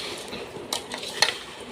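Pickle pieces being mixed with spice mix in a bowl for homemade pickle, giving soft scraping and clinking of a utensil against the vessel, fairly quiet, with a few sharper taps.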